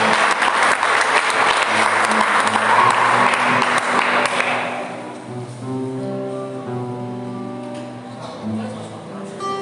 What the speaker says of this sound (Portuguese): aplauda o Messias o mais forte que você puder